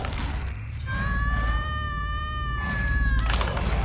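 Cat meowing in a long, drawn-out wail that rises and holds steady for about two seconds, loud and close over a low rumbling game soundtrack, within a horror creature game.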